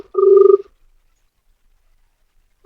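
An unanswered phone call ringing: one close, buzzy ring burst lasting about half a second, then silence, with the start of the next ring just beginning at the end.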